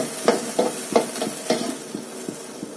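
Onions sautéing in a pan until just translucent, with a soft continuous sizzle and a series of rhythmic stirring scrapes that fade toward the end, close and moderately loud, with no talking.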